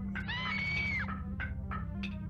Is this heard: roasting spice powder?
no